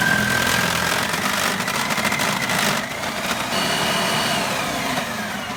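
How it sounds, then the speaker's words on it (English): A motorized grater shredding a bar of soap for homemade laundry detergent, a steady loud grinding whir that runs continuously with a slight dip in the middle, no voices over it. "to grate a bar soap takes 45 seconds to a minute"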